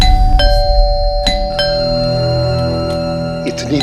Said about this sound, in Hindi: इतनी रात को कौन बार बार घंटी बजा रहा है?